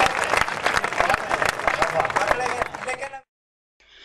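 Audience applause at a kavi sammelan poetry recital during the Korba Mahotsava: dense, steady clapping from a crowd for about three seconds, then it cuts off abruptly into silence.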